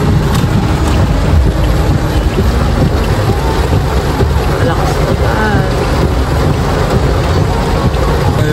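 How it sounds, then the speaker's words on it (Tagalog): Rain falls on a flooded street in Manila, a loud, dense, steady roar of downpour mixed with wind buffeting the microphone and a low rumble. "Kahit umuulan."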